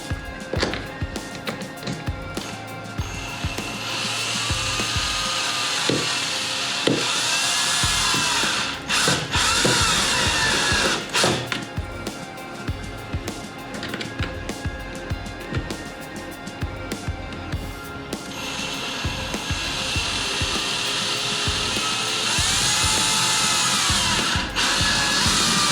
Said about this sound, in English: I'm just gonna drill them in.